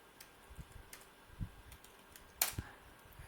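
Scattered keystrokes clack on a computer keyboard, a few light, irregular taps with one sharper key press, quiet and close in a still room.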